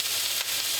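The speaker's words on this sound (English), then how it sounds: "add this rather large knob of butter to let this sizzle and foam around the pigeon" Steady, dense sizzle of a large knob of butter foaming in a hot pan around a roasting pigeon with garlic and herbs, close and continuous with a faint bubbling crackle throughout.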